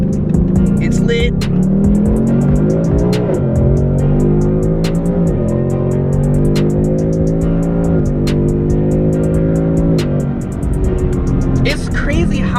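A 2018 Ford Mustang 5.0 GT with a 10-speed automatic accelerates hard, its V8 roar climbing in pitch and dropping sharply at each quick upshift, loud and close from inside the car, with people talking over it.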